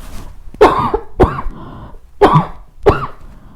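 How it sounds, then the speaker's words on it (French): Four sharp coughs in close succession, loud and near, with brief pauses between them. "je vais tousser, attendez"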